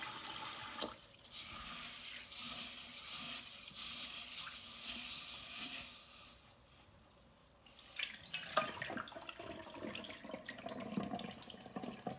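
Tap water runs into a sink while mung beans are rinsed, a steady splashing rush that dips quietly for a moment, then returns with busier sloshing and handling noises.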